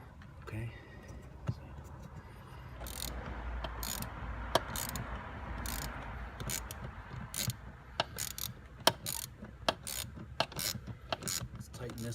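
A ratchet tightening screws on the blower motor resistor of a 2004-2007 Chrysler Pacifica, heard up close as repeated quick clicking bursts over a faint background rustle.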